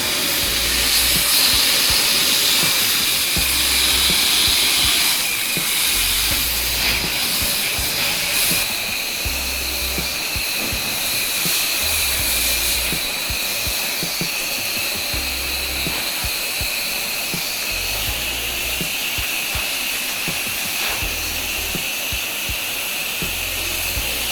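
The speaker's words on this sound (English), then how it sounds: "when I'm washing the houses and stuff like that, this is a perfect nozzle" A pressure washer sprays water while a house is washed, giving a loud, steady, close hiss with a low pulsing engine thrum underneath that lasts the whole time.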